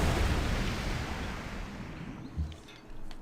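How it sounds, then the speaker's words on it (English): A city in Civilization V bombards a worker unit: a loud, rumbling barrage of booms that slowly decays, then a brief thump and a softer rumble near the end, with no talking. "I'll go ahead and bombard that worker"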